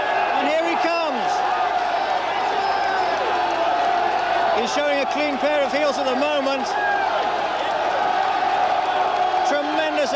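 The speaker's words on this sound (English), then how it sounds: "Listen to the crowd roaring home." A loud, sustained roar from a packed crowd at a 1986 greyhound race as the dog Ballyregan Bob rounds the final bend, cheering swelling in waves beneath an excited commentator.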